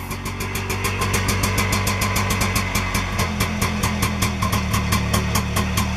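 An Invacar 12e engine with a dynastart runs steadily in a close, rhythmic putter with an even pulsing beat and no voices over it.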